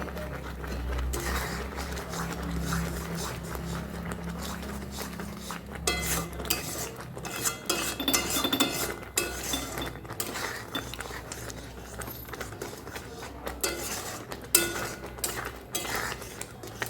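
A spoon scraping and clinking against a pan while stirring carrot vermicelli sweet cooked down in milk, a busy irregular run of metallic knocks and scrapes, close and fairly loud.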